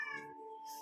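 A cat gives a single short, clear meow, close and fairly quiet, with a tonal harmonic cry lasting under a second and no talk over it.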